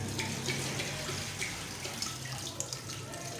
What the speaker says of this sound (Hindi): ये देखिए 1/2 लीटर हमने इसके अंदर पानी डाल दिया।